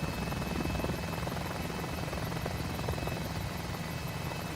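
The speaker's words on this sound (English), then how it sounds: "nice little one-person helicopter. Very fun helicopter. Turbine." H125 turbine helicopter flying in a flight simulator game, its steady rotor and turbine drone loud and continuous throughout with a faint high whine, no voices.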